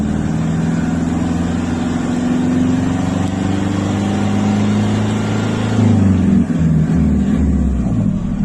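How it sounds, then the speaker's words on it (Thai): A Toyota Vigo 2.5 pickup engine, fitted with an electronic throttle controller, holds a steady hum near 1500 rpm, then shifts pitch and load briefly near the end as a gear goes in, loud and close with no talking. "ผมจะเร่งรอบเครื่องไว้ที่ประมาณพันห้าร้อยรอบนะครับ แล้วผมจะใส่ ใส่เบอร์นะครับฟังเสียงนะครับ"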